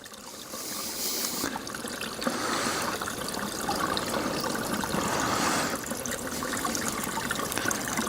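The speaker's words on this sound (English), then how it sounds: "we're literally right next to the stream" Clear stream water flowing steadily close by at a campsite, a continuous trickling and burbling wash that holds an even level throughout with no voices.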